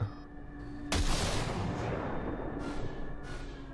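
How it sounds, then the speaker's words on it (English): A single loud gunshot from a gun in Cyberpunk 2077 cracks out sharply after a quiet moment, then leaves a long, dense reverberant tail that fades slowly over the next few seconds. "Single shot."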